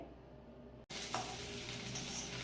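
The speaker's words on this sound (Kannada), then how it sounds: "ಸ್ವಲ್ಪ ಕೆಂಪಾಗೋವರೆಗೂ ಈರುಳ್ಳಿ ಹುರಿಬೇಕು" Onion sizzling steadily in a spoonful of hot oil while being fried for a drumstick sambar, a constant crackling hiss after a brief clatter, with no talking.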